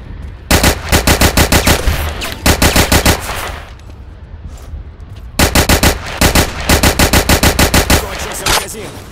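Bursts of World War II-era machine gun fire in a first-person shooter game, loud and rapid, in three long strings separated by short pauses.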